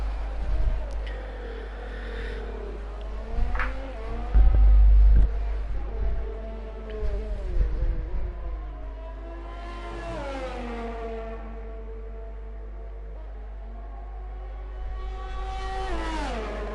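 Race car engines in an F1 video game at the French Grand Prix, a steady revving drone rising and falling through gear changes on track, with a commentator talking over it.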